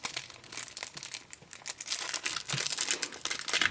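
Plastic wrapping on a pack of Monopoly Gamer Mario Kart cards crinkling and tearing as it is opened, a dense close-up rustle with brief crackles, fairly quiet and without speech.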